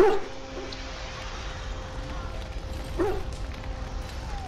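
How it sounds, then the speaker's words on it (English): Hounds whimper in the game Dragon Age Origins, sick from darkspawn blood, two short high whines about three seconds apart over a quiet steady ambient hum. "Half the dogs are sick from darkspawn blood."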